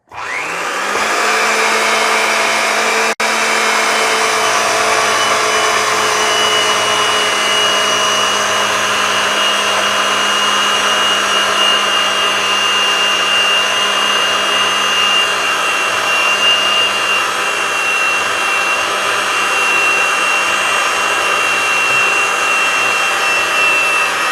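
A Ridgid 300 pipe threading machine threads steel pipe with cutting oil, a loud continuous motor whine with grinding die noise, steady throughout after a quick start.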